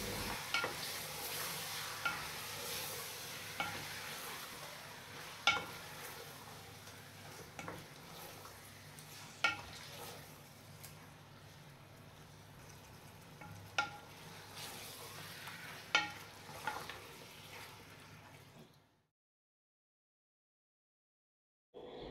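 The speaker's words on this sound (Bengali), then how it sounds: "মাংসটা দেবার পরে খুব সুন্দরভাবে কষিয়ে নিতে" Meat stir-frying with browned onions in oil for a biryani, a soft steady sizzle punctuated by repeated clacks and scrapes of a spatula against the pot, then falling silent near the end.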